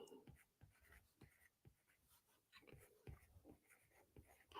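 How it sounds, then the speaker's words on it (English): A pen writes on a drawing surface in short, faint scratching strokes with brief pauses between them, close and quiet with no talk. "I'm just going to write here at the top."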